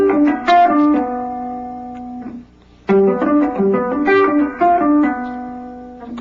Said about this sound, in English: Let's add the seventh note and add an extra couple other notes that are in the arpeggio like this.